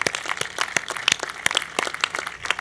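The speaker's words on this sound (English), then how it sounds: "Let's applaud for that." Scattered applause from a modest outdoor crowd at a groundbreaking ceremony for the New Jersey Performing Arts Center in Newark, distinct individual claps rattling unevenly at close to mid distance without speech.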